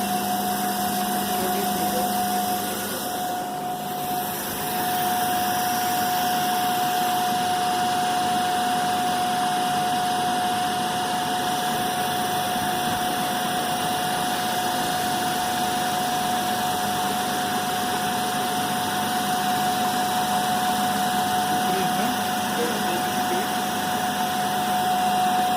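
Electric motor running under load during a Hopkinson test on a pair of machines, a steady mechanical hum with a sharp constant whine, loud and unbroken throughout, with no talking.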